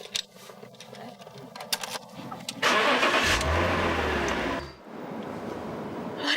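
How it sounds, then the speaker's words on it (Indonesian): A sports car engine cranks and catches, rising into a loud, close roar that settles into a rougher idle, with faint talk before it starts. "Mesinnya dinyalain dulu."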